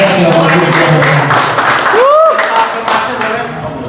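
Audience applause at an Indonesian campus event, steady clapping filling the clip under a loud, continuous background, with no clear break, while a voice carries on over it.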